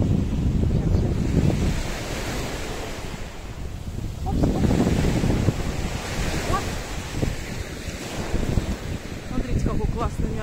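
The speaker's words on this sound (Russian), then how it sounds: "очень опасно, потому что море, и меня опять накроет волной" Sea waves wash onto a beach in Spain in a continuous loud surge, with gusty wind buffeting the microphone and rolling swells building and breaking close by.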